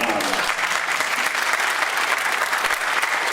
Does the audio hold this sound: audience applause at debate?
yes